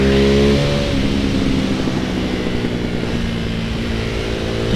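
A Ducati Hypermotard 698 Mono single-cylinder motorcycle with quick shifter rides along, a loud throbbing engine note that shifts and steps in pitch early on, then holds a steady droning pull under wind noise.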